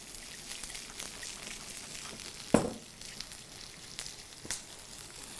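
Short ribs sizzling in olive oil in a pan as they are stirred, a steady soft frying hiss with one sharp clatter midway and a smaller knock near the end.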